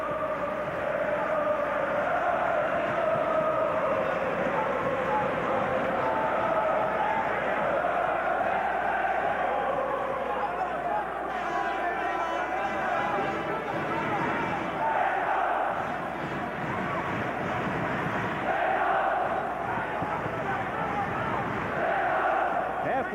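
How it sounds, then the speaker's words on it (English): A boxing arena crowd at a title fight roars continuously, a loud sustained wash of cheering and shouting with swells, while commentators talk over it. "Listen to this crowd."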